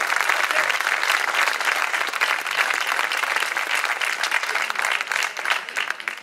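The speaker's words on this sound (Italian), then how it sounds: "Un grande applauso a questi bravissimi musicisti" Warm, sustained audience applause for musicians at an outdoor peace concert, a dense wash of many hands clapping that holds steady for about six seconds without speech.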